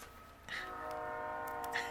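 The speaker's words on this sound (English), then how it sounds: "And you could probably hear the train." A train sounds faintly in the distance, a low steady rumble with a drawn-out horn tone rising and falling, no voices over it.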